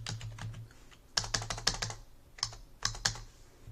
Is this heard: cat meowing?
no